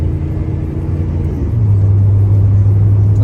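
A 1993 Chevy C1500 pickup with RideTech suspension accelerates toward about 60 mph, its engine and road rumble loud and close, a low steady drone rising in pitch and strengthening partway through.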